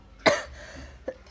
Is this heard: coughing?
yes